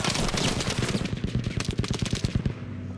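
Rapid automatic gunfire in the video game Battlefield V, a loud, close, steady stream of shots lasting about two and a half seconds before it cuts off.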